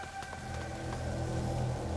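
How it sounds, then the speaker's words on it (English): Steady rain falls on surfaces in A Plague Tale: Innocence, a soft, even hiss with scattered droplet ticks, fairly quiet and constant throughout, no voices. "Lucas, Hugo, stay out of the rain."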